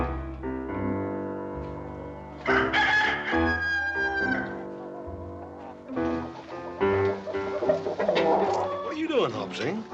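Chickens clucking and a rooster crowing in a farmyard, loud bursts of bird calls alternating with lower clucks and rustling, close by and mixed with some voice-like sounds.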